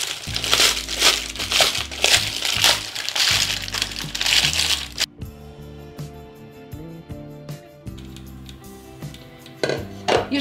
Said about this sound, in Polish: Papier do pieczenia gniotę.